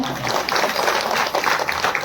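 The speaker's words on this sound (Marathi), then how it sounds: "टाळी वाजवा त्यांच्याकरता एकदा" Audience clapping at a kirtan for elderly cymbal players, a steady burst of applause from a crowd, close and fairly loud throughout.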